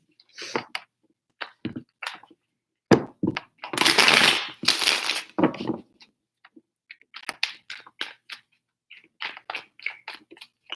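Crisp, irregular tarot card shuffles up close, a few quick riffles with a louder burst in the middle, set against near silence.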